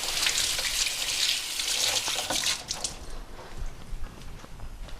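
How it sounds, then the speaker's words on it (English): Hands are rinsed under a running kitchen tap, a steady close splashing hiss of water that thins out as the flow is cut after about three seconds, leaving faint drips and handling noises. "just have a look at that while I rinse my hands"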